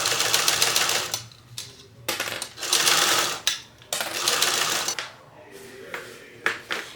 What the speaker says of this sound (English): We're just sewing this at 1/8 of an inch seam allowance.